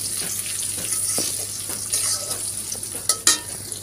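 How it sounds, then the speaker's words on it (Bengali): Onions frying in oil with bay leaf and cinnamon sizzle steadily, stirred with a few soft scrapes and a couple of sharper clatters near the end, close up with no speech. "আর দিয়ে দেব পেঁয়াজ দিয়ে, নাড়াচাড়া দিয়ে লাল লাল লাল করে একটু ভেজে নিব বাদামি রঙের"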